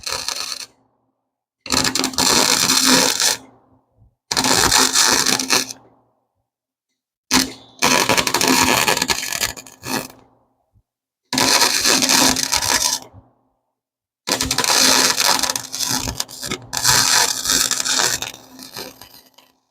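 Loud, close bursts of arc welding on metal crackle and buzz in several separate runs of two to three seconds each, with short silences between them.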